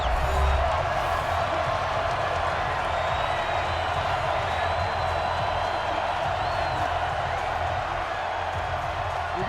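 A stadium crowd in Madden NFL 20 roars during a Jacksonville Jaguars versus Tennessee Titans game ahead of a big third down, a dense, steady wash of cheering that holds for the whole stretch while a commentator talks.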